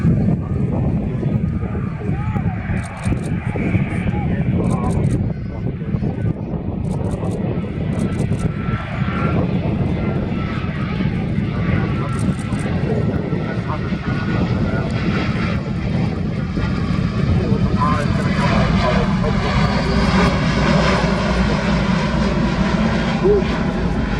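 An Airbus A350-1000 slows down in a constant, loud engine roar with some faint higher hissing, while a person talks over it the whole time.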